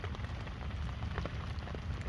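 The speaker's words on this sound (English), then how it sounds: "The rain's not supposed to stop for another, like, at least 2 hours." Rain patters steadily on a tent pitched in a homeless camp, a soft, continuous hiss of drops with faint low rumble, quiet and unbroken throughout.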